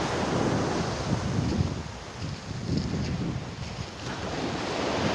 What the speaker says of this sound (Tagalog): gano'n kalakas yung alon